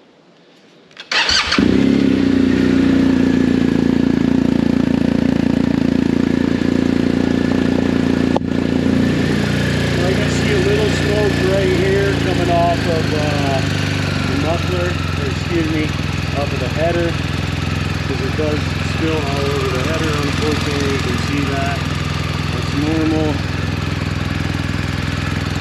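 A 2022 BMW R 1250 GS Adventure motorcycle engine cranks and fires, then settles into a steady, close idle after a service oil change, running continuously for over twenty seconds.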